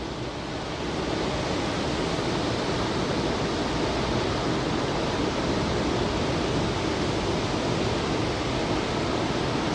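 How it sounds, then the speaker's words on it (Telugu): A waterfall in California roars as a dense, steady rush of falling water, loud and unbroken throughout, with no voices. "వాటర్ ఫాల్స్ కదా."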